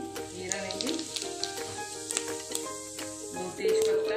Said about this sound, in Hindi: तेल गरम हो गया है, अभी हम इसमें जीरा लेंगे